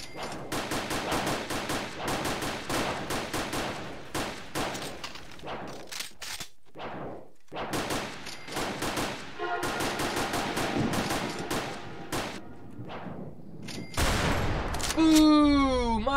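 Rapid bursts of gunfire from a Roblox superhero tycoon game, dense and loud through most of the clip, with brief gaps, a louder boom near the end and a rising electronic tone.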